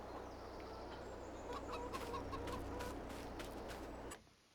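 Chickens clucking on a farm in Farming Simulator 22, a steady flock chatter with sharp bursts over a low hum, fairly close, then cutting out abruptly near the end.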